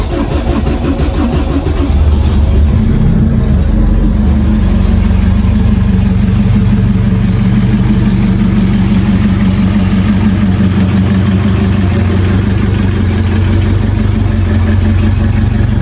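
A Honda Civic with all-wheel drive starts up and settles into a loud, steady low idle close by, with a rougher stretch early on before the engine evens out.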